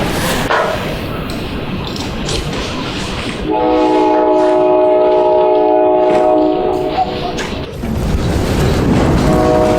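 A freight train rolling along railway tracks in Kazakhstan, loud and close, with a heavy rumble and rattling wagons, a long sustained horn blast in the middle, then the rumble and clatter continuing.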